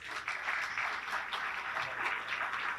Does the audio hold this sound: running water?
no